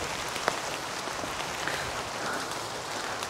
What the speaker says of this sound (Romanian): Uite ce plouă partea acolo.